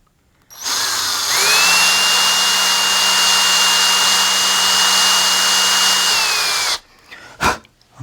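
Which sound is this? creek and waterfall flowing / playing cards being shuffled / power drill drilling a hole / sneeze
power drill drilling a hole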